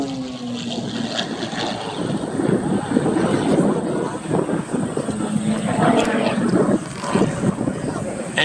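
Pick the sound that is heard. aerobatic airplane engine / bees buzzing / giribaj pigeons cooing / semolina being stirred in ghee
aerobatic airplane engine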